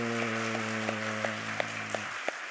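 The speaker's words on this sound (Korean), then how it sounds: "힘차게 박수." A church congregation at a Sunday service claps loudly and steadily, a dense wash of applause with a sustained organ-like chord underneath that fades out near the end.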